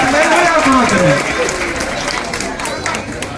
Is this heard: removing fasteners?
no